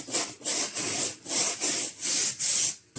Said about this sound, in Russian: И сейчас я просто крашу.